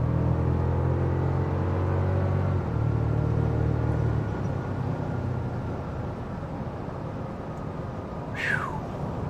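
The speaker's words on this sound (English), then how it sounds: "It sounds like a V8, but it's a little turbocharged 4-cylinder." A 2024 Toyota Tacoma's turbocharged four-cylinder engine revs with a deep, throaty harmonic drone that swells, then eases into a lower rumble, with a brief high chirp near the end.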